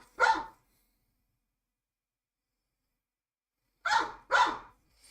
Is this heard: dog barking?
yes